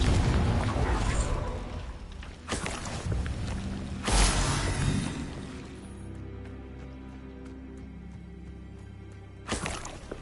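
Confringo blasting spells bursting in Hogwarts Legacy gameplay, a few loud booming explosions with sharp onsets, the biggest near the middle, separated by quieter rumbling stretches and game ambience.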